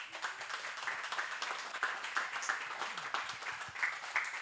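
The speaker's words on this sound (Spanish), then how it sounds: "creo que el muchacho se merece un aplauso" An audience at the Las Palmas book fair claps, a faint, thin and scattered patter that stays low and distant throughout.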